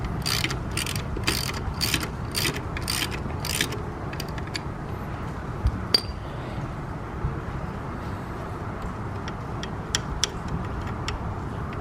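Socket wrench ratcheting in quick bursts of clicks, then sparser single ticks, while bolts come off the rear-set controls of a Yamaha FZ6R motorcycle, with a steady background hum.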